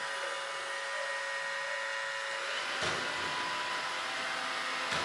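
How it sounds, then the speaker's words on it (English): A Roomba robot vacuum cleaner runs with a steady whirring hum and motor whine, fairly close and continuous, with brief bumps around the middle and end and no talking. "The Roomba will stop vacuuming."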